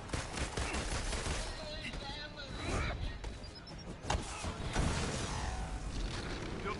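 Gunfire in the Avengers video game beta: dense, rapid bursts of shots, close and fairly loud, crackling almost continuously over a busy bed of game noise with a few sharper blasts standing out.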